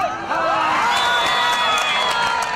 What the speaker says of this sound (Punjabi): ਵਾਹ ਬਾਈ ਤਾੜੀਆਂ ਮਾਰਦੇ ਜ਼ੋਰ ਨਾਲ